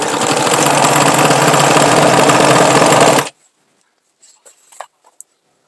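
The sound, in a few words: sewing machine stitching patchwork rug strips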